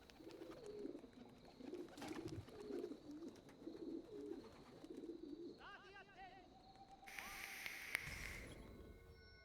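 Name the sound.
bird cooing in an Assassin's Creed video game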